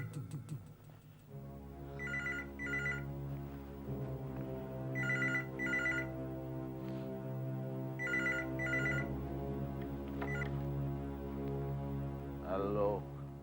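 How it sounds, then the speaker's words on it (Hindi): A telephone rings in bursts of paired electronic trills, three clear rings spaced a few seconds apart, over a low sustained musical drone in a horror drama scene. "लो, उसी का फोन होगा।"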